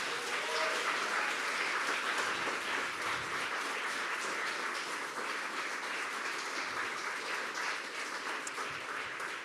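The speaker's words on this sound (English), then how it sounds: "So the biggest applause goes to you all students who are in here." Sustained audience applause for students at a startup demo day event, dense and steady throughout, with a few whoops mixed into the clapping and no talk over it.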